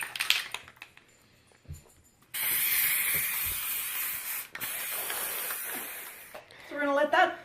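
Flexible rubber sealant hisses from an aerosol can in two long bursts over glitter, close and loud, with quiet handling noises before and a brief rattle at the end.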